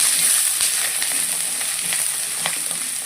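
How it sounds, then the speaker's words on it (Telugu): Green chillies, carrot, onions and curry leaves frying in a pan with dals for uggani, a close, steady sizzle with faint stirring scrapes and light crackles throughout. "పచ్చిమిర్చి వేస్తున్నా, క్యారెట్ కూడా వేస్తున్నా, ఆనియన్స్, కరివేపాకు వేస్తున్నా"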